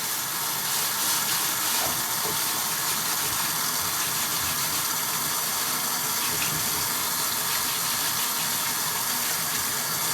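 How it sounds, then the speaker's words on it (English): Steady rushing water rinses vinegar residue off a rusty wheel after a soak and scrubbing with a Scotch-Brite pad, a continuous close hiss that holds level throughout with no talk. "I just clean it off with a Scotch-Brite and rinse it really good. Get the vinegar off."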